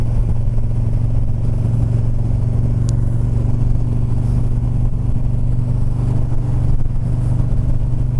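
A car engine idling and revving in heavy Los Angeles traffic, a loud, close low rumble that holds steady with slight swells, with one brief sharp click partway through and no talking.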